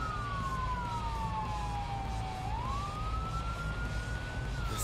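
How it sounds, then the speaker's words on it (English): In a firefighting simulator video game, a fire engine's wailing siren sweeps slowly up and down in pitch over a constant low engine drone, steady and fairly loud throughout. "I wish they had different sirens."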